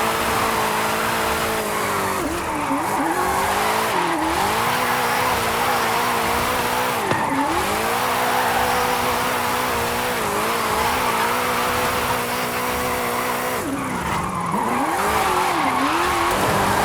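Car drifting in Forza Horizon 5 at a Mexico drift club: a steady, loud engine roar with long tire squeal throughout, pitch dipping and rising on several gear shifts, no voices.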